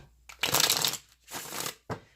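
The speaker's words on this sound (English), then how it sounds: "my hands hurt when I shuffle these cards" A deck of tarot cards being shuffled by hand, with three brisk riffling bursts up close and brief pauses between them, no talking.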